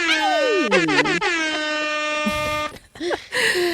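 A loud, blaring air horn sounds repeatedly in harsh, rising and bending blasts, close and dominant.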